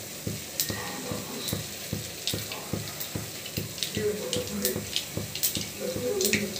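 Cumin and mustard seeds spluttering in hot oil, a dense run of rapid pops and crackles over a constant sizzle, close and fairly loud, with scattered bright clinks on top.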